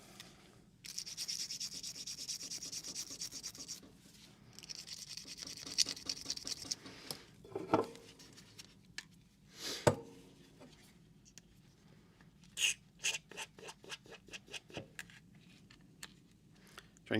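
Scraping and rubbing as gunk is cleaned out by hand, irregular close scratchy strokes with a few sharper knocks and scrapes, moderately faint, no talking.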